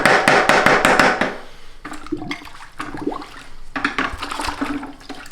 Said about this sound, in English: Okay, so now we're just gonna rinse this out